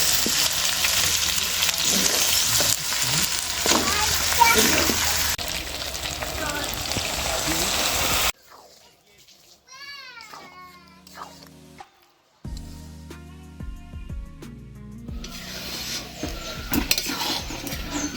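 Chicken and boiled red lentils are stirred together in a hot pan, giving a loud, steady sizzling scrape for several seconds. The cooking briefly drops away while a cat meows a few times nearby, then the sizzling stirring resumes.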